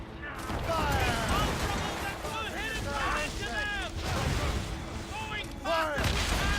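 Ship cannons fire during a naval ambush chase in Assassin's Creed Rogue, a dense, continuous booming barrage under sea and ship noise. Crew voices shout over it throughout.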